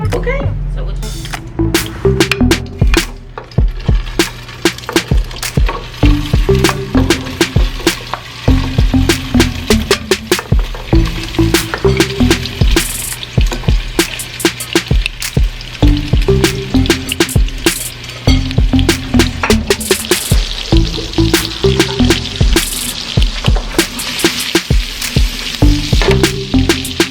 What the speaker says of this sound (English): I'm just going to sear them because what'll happen, it'll cook the rest of the way in the gravy